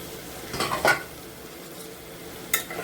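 Fried egg and potato being stirred into a hot spice paste for an egg and potato curry, a few scraping stirs with a spatula over a soft background sizzle, close and moderately loud, no talking.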